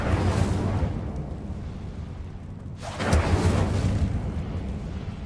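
A roaring whoosh of flame from the Incendio fire spell cast in Hogwarts Legacy, swelling suddenly midway over a steady low rumble of ambience and burning on as a broad crackling rush.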